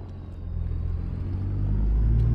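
A Peterbilt Day Cab truck in a driving video game cruises in second gear while hauling huge tires, a steady low engine rumble that grows slightly louder and heavier toward the end, with no talk.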